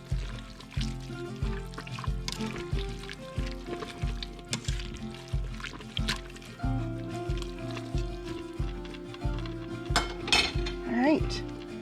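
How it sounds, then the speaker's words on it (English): A pot of vegetables with Total seasoning being stirred, with repeated metallic clinks and scrapes of a utensil against the pot over a regular low thumping pulse, close and fairly loud. "We'll give these a little stir."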